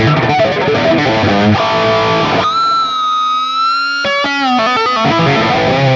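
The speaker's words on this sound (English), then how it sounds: "If I was to bring a drive in, it would be, of course, the 808, which is going to sound like this." An electric guitar with Seymour Duncan JB and 59 pickups on a Charvel San Dimas plays through a Fractal Audio FM3 modelling a 1959 Plexi amp with an 808 drive, sounding loud and distorted with chords and a sustained ringing passage.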